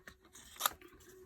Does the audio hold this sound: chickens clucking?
no